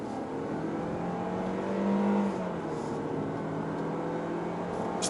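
A Lexus UX F Sport drives over rumble strips, a steady droning road rumble with a low tonal hum that swells briefly midway, heard from inside the cabin with no talking.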